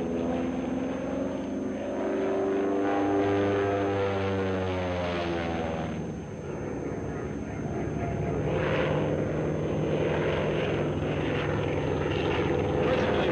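A Stearman biplane, modified for aerobatics from its original 220 horsepower engine, drones steadily and loudly through a maneuver, its propeller tone sweeping in pitch as it climbs and rolls, with no voices over it.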